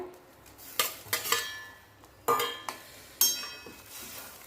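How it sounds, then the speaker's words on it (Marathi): Several sharp clinks and clatters of bitter gourd pieces dropping into a metal pot of simmering gravy, a few distinct bursts with short pauses, close by and with no talking. "आता हे कारल्याच्या फोडी टाकूया"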